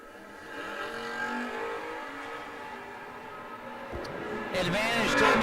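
Drag race cars, a Chevelle and a Thunderbird, at a no box open event: engine roar builds steadily under crowd noise and voices, with a sharper, louder surge near the end.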